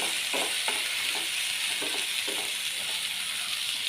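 Food fries in a pan with a dense, continuous sizzle and hiss that holds steady throughout, with faint soft stirring knocks underneath and no voices.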